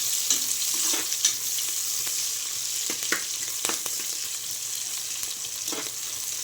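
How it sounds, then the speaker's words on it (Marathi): Cumin, curry leaves and onion fry in hot oil for pea pulao, a continuous bright sizzle close by with intermittent scrapes and clinks of stirring. "तेलामध्ये कच्चा मसाला टाकून घ्यायचा, जिरे टाकायचे, कढीपत्ता टाकायचा, कांदा टाकायचा। कांदा छान लाल करून घ्यायचा आहे।"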